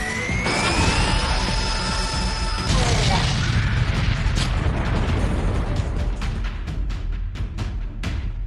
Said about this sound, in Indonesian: dan monster itu meledak